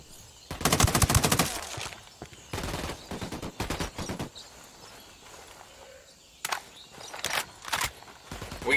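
Bursts of rapid automatic gunfire from the Ghost Recon Wildlands video game crackle close and loud in several separate volleys, with short quiet gaps between them.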